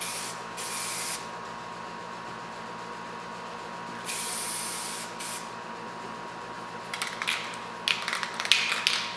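Spray paint hissing onto a door panel from a junked Chevrolet S10 truck in short steady bursts, followed by rattling, clicking handling noises toward the end.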